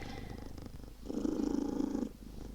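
A 21-year-old cat purring steadily close by, a soft rumbling drone that swells louder in the middle of the clip before easing back.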